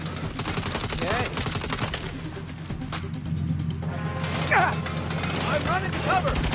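Turret gunfire in the Saints Row video game, steady rapid bursts of shots running under game sound effects and voices, moderately loud with a few sharper impacts later on.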